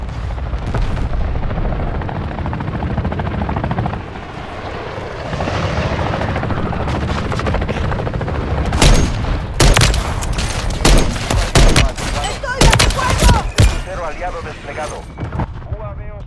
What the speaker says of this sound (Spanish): Viene un bombardeo aliado.